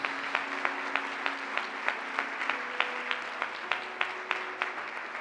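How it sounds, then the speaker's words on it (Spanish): A church congregation clapping in a steady, regular rhythm, each clap distinct and evenly spaced, with a faint sustained tone running underneath. "Dale fuerte el aplauso a Jesús."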